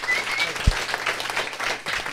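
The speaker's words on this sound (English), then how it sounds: "One more applause." Audience applause at a GreenDrinks gathering, a steady moderately loud patter of many hands continuing for about two seconds, with a faint thump partway through.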